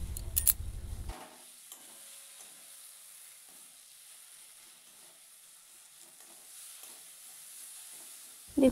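Egg curry masala with a little sugar added frying and being stirred in a pan, a steady low sizzle running throughout with a louder burst of stirring at the very start and end.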